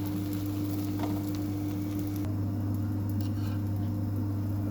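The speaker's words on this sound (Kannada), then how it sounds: "ಸೊ ಕಾದಿರೋ ಹೆಂಚಿನ ಮೇಲೆ ಹಾಕ್ತಾಯಿದ್ದೀನಿ" Coconut holige flatbread cooking on a hot griddle, a soft continuous sizzle with light crackles over a steady low hum.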